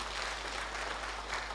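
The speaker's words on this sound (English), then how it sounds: "we can give a round of applause to the entire IT team" Audience applauding at a state-level conference on e-court initiatives, a steady broad wash of clapping from a sizable crowd, even and continuous throughout with no voices over it.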